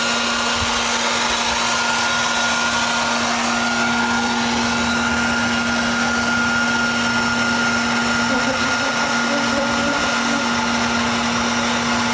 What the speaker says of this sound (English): you extracting them with the vacuum cleaner